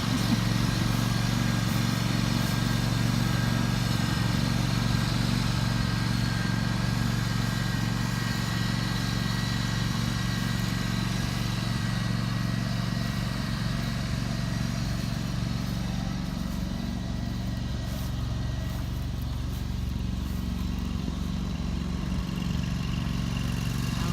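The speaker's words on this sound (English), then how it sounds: "just using our little John Deere lawnmower to pull it" A small John Deere riding mower's engine drones steadily and loudly throughout, a constant mid-pitched rumble that strains slightly as it hauls a chicken coop, with no talking.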